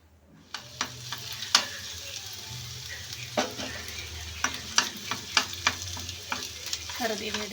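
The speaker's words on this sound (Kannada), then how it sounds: "ಹೀಗೆ ಕರೆದಿದ ಮೇಲೆ ಚೆನ್ನಾಗಿ ಸ್ವಲ್ಪ ತಿರುಗಿಸ್ತಾ ಇದ್ದೀನಿ." Ginger garlic paste sizzles steadily in hot oil in a pan while a spoon stirs it, with sharp scraping clinks of the utensil against the pan coming at irregular intervals over the frying hiss.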